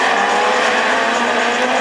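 A Citroën Saxo Kit-Car races in a Super 1600 rallycross at Châteauroux, a loud, dense engine roar with tire noise filling the moment, close and sustained with no talk.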